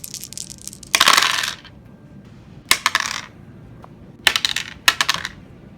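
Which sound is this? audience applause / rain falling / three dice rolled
three dice rolled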